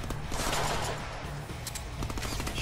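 Shotgun blasts and gunfire in the Deadpool video game, a dense busy battle mix with repeated shots layered over continuous game noise and music, steady and fairly loud throughout.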